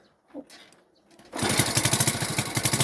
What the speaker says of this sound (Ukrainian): Зараз спробуємо ще раз завести, щоб уже точно сказати